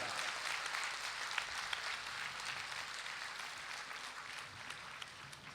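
Sustained applause from a large audience at a spiritual satsang gathering, a dense, steady wash of many hands clapping at once with no break across the whole stretch and no voices over it.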